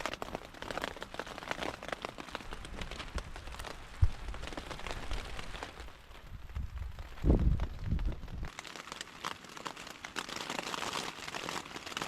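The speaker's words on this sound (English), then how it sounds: "sitting in my tent because it's kind of raining right now" Rain patters steadily on a tent in Capitol Reef National Park, a soft continuous hiss dotted with close drops and a few louder taps and rustles.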